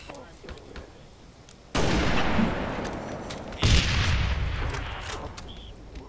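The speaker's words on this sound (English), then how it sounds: "Dang it a sniper rifle." Sniper rifle shots in a video game fire as two sharp, loud booming blasts a couple of seconds apart, each leaving a long rumbling decay over quieter background noise.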